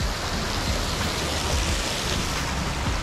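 Continuous rushing and splashing of a waterfall at a resort close to the Burj Khalifa, an even, fairly loud wash of water that holds steady throughout with no one talking.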